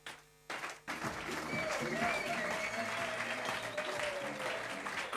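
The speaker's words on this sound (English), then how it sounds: "please another special applause for Kronplatz" An audience at an awards evening in the Lumen Museum at Kronplatz breaks into applause after a short pause, the clapping steady and fairly loud, with faint voices mixed in beneath it.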